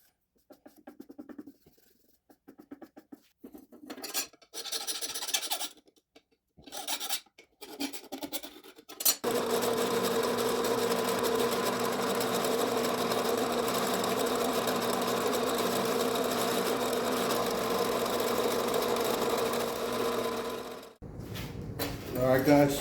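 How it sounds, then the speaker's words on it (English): Intermittent speech gives way to a long, steady mechanical whirr of a drill boring holes in chef knife steel for about ten seconds, then stopping. "Next up, I'm going to drill our holes and get ready for heat treat."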